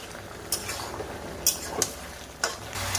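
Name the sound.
stir-frying vegetables with cumin and coriander paste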